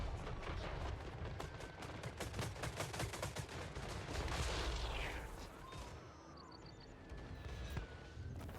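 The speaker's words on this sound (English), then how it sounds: "that's a lot of artillery" An artillery and gunfire barrage thunders across a Total War Warhammer III battle. Rapid volleys of cracking shots give way to a rolling, rumbling roar.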